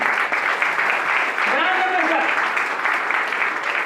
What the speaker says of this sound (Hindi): मैं चाहूंगा कि विकास तिवारी जी के लिए ताली बजी चाहिए